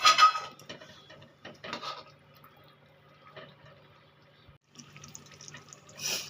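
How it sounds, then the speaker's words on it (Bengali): Small amount of water poured into a cooking pan while preparing a vegetarian moong dal dish, a close splashing trickle in short bursts with pauses, ending in a louder pour. "এখানে আমি একটু জল দিয়ে দেব অল্প পরিমাণে জল দিলাম"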